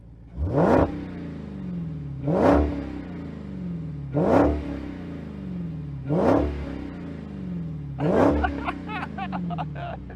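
A Dodge Demon muscle car engine with a soft limiter near 4,500 RPM revs hard five times in a steady rhythm, each raucous, loud blip rising then falling back to a rumbling idle.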